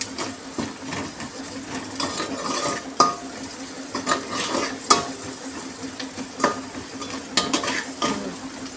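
Onions sautéing in a pan for Tamil kara kuzhambu, a steady close sizzle broken by repeated scrapes and clinks of a spoon stirring against the metal, with no voices.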